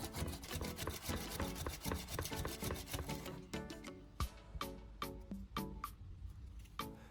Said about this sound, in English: Then lightly sand each battery terminal to remove dirt and old oxidation.